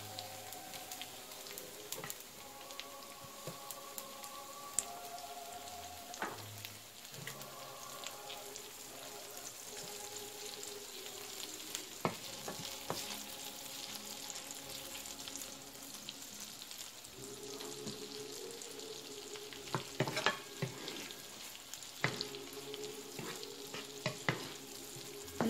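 Garlic sautés in a pan for garlic butter shrimp, a steady close sizzle and crackle of frying with occasional stirring scrapes, and butter is added partway through to keep sizzling.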